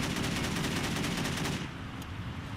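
Rapid automatic fire from an AK rifle with unlimited ammo in a video game mission, loud and close, as a continuous dense burst that cuts off after about a second and a half.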